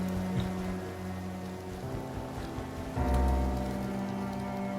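Steady rain patters on a surface in the video game Inmost, with a low continuous rumble beneath that swells louder partway through, no voices.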